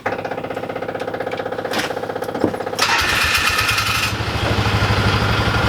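A Ford Ranger engine with a freshly cleaned carburetor cranks with a dragging starter, then catches and settles into a loud, steady, rapidly pulsing idle close by.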